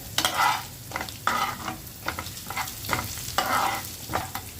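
A tempering of ginger, chilli, curry leaves and turmeric for vada pav potato filling, sautéed in hot oil: close, loud sizzling with repeated rhythmic scraping of a spoon stirring the pan, no talk.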